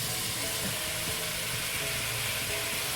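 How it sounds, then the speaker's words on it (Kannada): Coriander leaves and green peas fry in a pan with a steady, broad sizzle that holds evenly throughout, close and uninterrupted, with faint stirring scrapes underneath. "ಕೊತ್ತಂಬರಿ ಸೊಪ್ಪು ಬಟಾಣಿ ಎಲ್ಲದೂ ಕೂಡ ಚೆನ್ನಾಗಿ ಫ್ರೈ ಆಗ್ತಾ ಇದೆಯಲ್ಲ"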